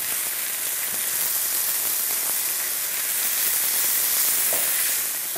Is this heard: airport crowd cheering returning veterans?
no